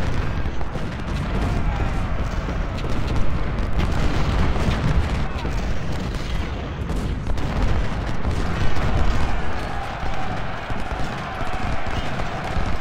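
Cannon and musket fire in Ultimate General: Civil War, a Union battle at the Mule Shoe, rumbling on as a continuous dense barrage of booms and crackling shots.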